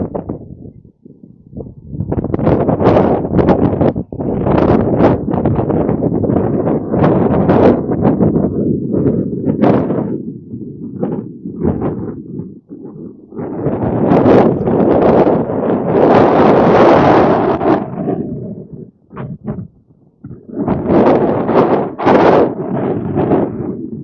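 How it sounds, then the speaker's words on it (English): Strong outdoor wind buffets the microphone in loud, rumbling gusts that rise and drop repeatedly, with brief quieter lulls between blasts and no voices. "A lot of wind."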